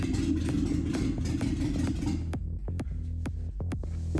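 A Volkswagen Golf engine idles just after its first start following ignition coil and wiring work, a steady close rumble with sharp periodic ticking clatter that stands out as the background noise drops away halfway through.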